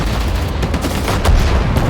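Rapid gunfire from the World War II strategy game Sudden Strike 4 during Operation Overlord, a dense burst of overlapping shots and crackling bursts over a rumbling battlefield background.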